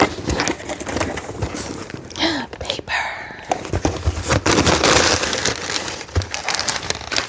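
Paper packing is pulled from a shipping box around a Coach crystal card case, making bursts of rustling and crinkling with short crumpling sounds, while a person speaks softly over much of it.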